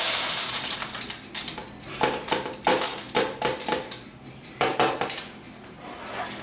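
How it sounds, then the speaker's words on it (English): Dry macaroni rattles and clatters into a pasta bowl in several uneven bursts, with short pauses between pours. "you will put a cup of macaroni into the pasta bowl"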